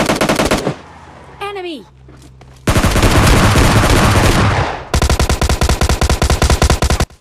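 Tommy gun bursts in the mobile battle game PUBG Mobile Lite, loud rapid automatic fire in several long strings with a short break between, plus a brief whistling game effect early on.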